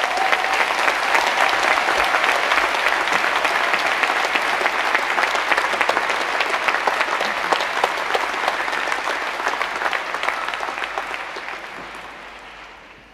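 Audience applause for the graduates at Imperial College's 2023 Commemoration Day, a dense, loud, sustained roar of many hands clapping for over ten seconds before gradually tapering off near the end.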